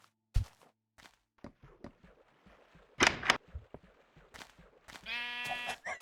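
Sheep bleating in Minecraft, a single drawn-out nasal bleat near the end after scattered soft blocky footsteps and a brief burst of noise, with quiet gaps between.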